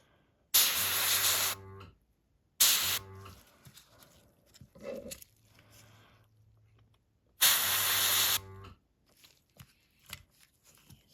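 Colour spray is misted onto nails for a rainbow aura effect in three loud, close hissing bursts, the first and last about a second long and the middle one short, with quiet handling noises between them.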